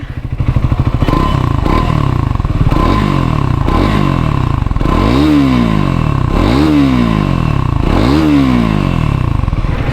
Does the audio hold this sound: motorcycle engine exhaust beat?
yes